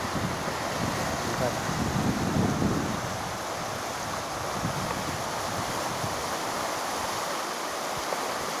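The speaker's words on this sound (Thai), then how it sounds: "น้ำกำลังไหล" The Chi River in Roi Et, Thailand, rushes in a steady, continuous roar close by, mixed with gusty wind buffeting the microphone.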